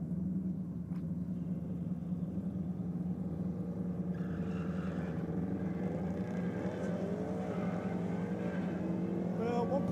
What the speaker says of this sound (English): Daniel out now in the Rocket Lane in the McLaren 720S. About to take on Dimitri in the Audi wagon.